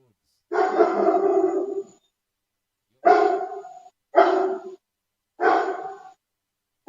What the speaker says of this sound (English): My dog barking here.